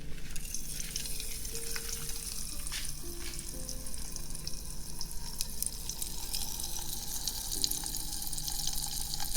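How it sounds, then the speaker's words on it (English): Soft, steady crackle and sizzle like bacon frying in a pan, a faint continuous spitting texture with occasional low tonal hums underneath, quiet and without any voices. "To me, this sounds like sizzling bacon."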